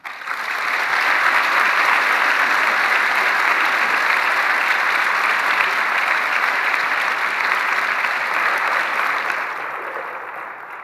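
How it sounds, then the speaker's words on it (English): Sustained audience applause after an opening plenary speech at a conference: a broad wash of many hands clapping, rising quickly, holding steady and loud for several seconds, then tapering toward the end. "the applause, I think, said it all"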